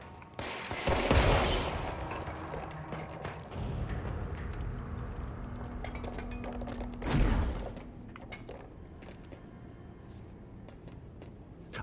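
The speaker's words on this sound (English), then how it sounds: "I have, yeah, incoming gunfire," Muffled bursts of video game gunfire, a couple of sharp louder volleys over a steady low rumble, with scattered distant shots in between.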